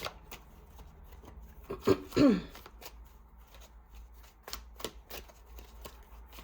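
Tarot cards are shuffled by hand in quick close riffles and soft slides, with one louder burst of shuffling in the middle and scattered faint taps around it.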